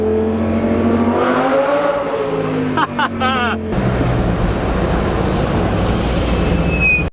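A V10 supercar with a manual transmission drives hard, its engine a loud, steady high-pitched drone that climbs through revs and dips briefly around a gear change before settling into a rougher roar.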